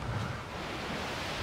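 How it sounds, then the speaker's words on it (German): Water splashing over a ship's deck in the pirate video game Tortuga: A Pirate's Tale. A steady, dense wash of surf-like rushing noise runs without a break, with no voices. "Wasser spritzt übers Deck."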